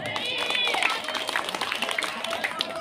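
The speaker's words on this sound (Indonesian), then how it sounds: "Tepuk tangan penonton." Audience applause at an Islamic school quiz competition between student teams, a steady wash of many clapping hands under voices and faint tonal sounds, continuing evenly for a few seconds.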